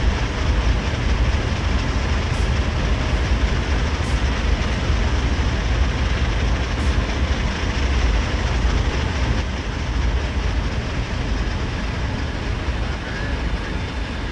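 Norfolk Southern heavy coal train from Train Sim World 3, a steady, loud rumble of engine and rolling wagons with faint rail clatter, continuous and even throughout, with no voices.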